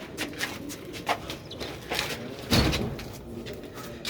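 Ali wale breed pigeons, Sialkoti breeder pairs, coo and shuffle close by in their loft, with soft repeated low coos and light rustles and wing flutters spread across the moment.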